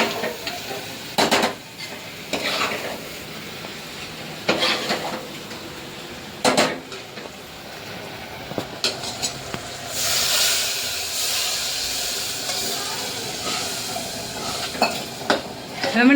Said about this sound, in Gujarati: બટેકા વઘારે છે